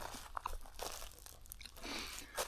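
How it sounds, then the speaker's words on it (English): Crunchy chewing of a tortilla wrap filled with tuna, mayo and crushed sour cream and onion Pringles, eaten as a trail lunch outdoors; several close, crisp bites and crunches in an irregular rhythm, with no talking. "Tuna fish, mayo, potato chips, and a tortilla. Nice and crunchy."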